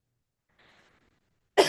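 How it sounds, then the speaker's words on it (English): One abrupt, close cough breaks out at the end after near silence and a faint murmur. "Oh my goodness, so much coughing."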